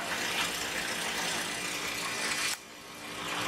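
A loud truck engine idles with a rough, steady mechanical rattle and hum, which cuts out sharply partway through and then builds back up.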